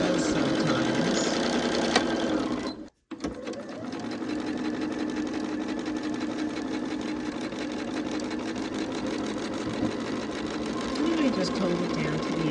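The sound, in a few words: sewing machine stitching a quilt seam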